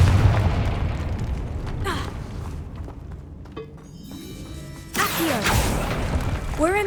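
A Confringo fire spell explodes in the Hogwarts Legacy video game inside a tomb: a loud booming blast with crackling bursts and sweeping whooshes, followed by a second surge of bright, ringing magical effects.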